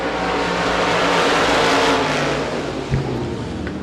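Modified race cars starting a race at a speedway, a dense loud roar of several engines revving together under the green flag, steady and broadband, with a brief thump near the end.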